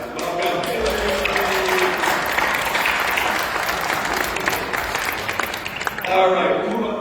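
Audience applause fills a room at a Minnesota GOP gubernatorial candidate forum, a steady broadband patter of many hands that runs loud and continuous, then tapers off near the end.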